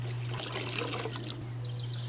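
Rainwater from a rain barrel trickles and pours steadily from a bucket at a gentle, quiet level, alone over a low background hum.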